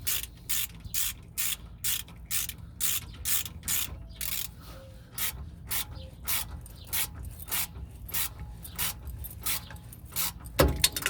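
Ratchet clicking in quick repeated bursts while tightening differential cover bolts, a steady rhythm of short metallic pawl strokes close up, with a brief louder clunk near the end.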